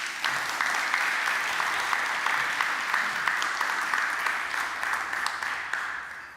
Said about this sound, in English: So can we please give the students another round of applause?